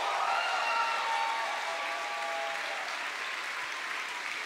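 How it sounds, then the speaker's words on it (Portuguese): Steady, dense applause from a church audience at a worship event, sustained for several seconds at an even level with some sung or whistled tones at the start, no clear talking. "Uma salva de palmas para Jesus"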